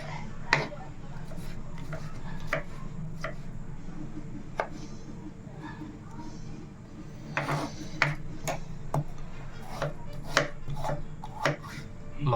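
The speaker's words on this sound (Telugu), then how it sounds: "ఇప్పుడు దోస కట్ చేసుకుందాం." A knife chops cucumber on a board in irregular sharp knocks, some clustered and some spaced apart, close by over a low background hum.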